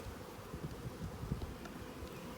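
A swarm of honeybees hums faintly and continuously, a soft, wavering buzz with occasional closer passes rising briefly above a quiet outdoor background.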